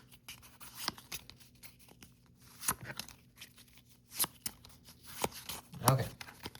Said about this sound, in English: So let's shuffle these up here a bit, shall we?